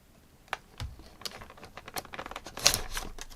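A taped cardboard box holding a Digimon TCG starter deck is worked open with scattered, quiet crinkling, tearing and clicking noises in an irregular rhythm that grows busier toward the end. Nobody speaks.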